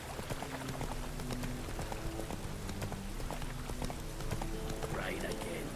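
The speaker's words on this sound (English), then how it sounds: "Rain again." Rain patters over steady clip-clop of horse hooves during a ride in The Witcher 3: Wild Hunt, a soft continuous wash with rhythmic hoofbeats and faint game tones.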